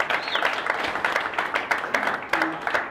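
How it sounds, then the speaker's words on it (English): Applause from the audience at a motor racing qualifying press conference for a 12-hour endurance race, brisk close clapping from a modest group with a few voices underneath, lasting a few seconds. "Give them a round of applause, ladies and gentlemen."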